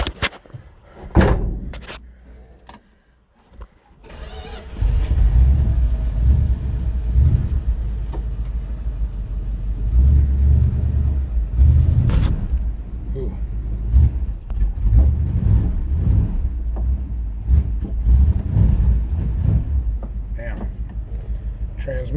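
An old Plymouth Trailduster truck engine cranks and catches, then settles into a rough, loud low rumble that keeps running steadily, with a door clunk and rattles early on and people talking over it.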